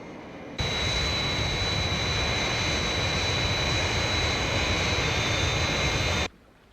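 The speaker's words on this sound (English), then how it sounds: "Scott has made a good takeoff" Fireflash jet airliner from Thunderbirds roaring on takeoff, a loud, sustained jet-engine rush with a high whine that starts abruptly, holds steady for several seconds, then cuts off sharply.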